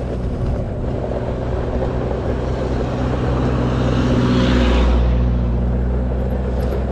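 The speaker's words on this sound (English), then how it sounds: "I'm going to talk to you while we're riding so you can hear how quiet it is." A Christini electric ATV riding over terrain in Moab, Utah, giving a steady rumbling rolling noise of tires and chassis with a low drone that swells slightly toward the end, close and continuous with no talking.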